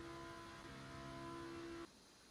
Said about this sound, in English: The Advan racing car is revving its engine, but it is not going anywhere.